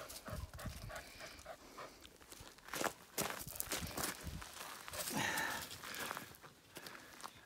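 A happy puppy named Casper pants and scuffles around on a log cabin deck by a lake, playing with his ball. Soft, irregular panting and pattering steps sit close by, without any talking.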